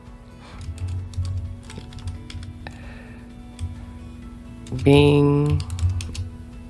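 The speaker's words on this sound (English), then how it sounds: "I can type in something like AI consultant, or how about certified" Typing on a computer keyboard: quick, light clicking keystrokes in irregular bursts, close by, under a voice speaking between the taps.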